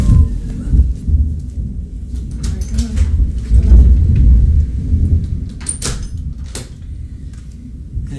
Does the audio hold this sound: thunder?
yes